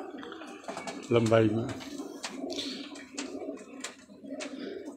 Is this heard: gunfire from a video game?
no